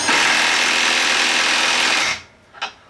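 A Milwaukee M12 3/8-inch stubby impact wrench on mode 2 tightening a fastener: a loud, continuous, dense hammering whir that stops abruptly after about two seconds, followed by a short faint click.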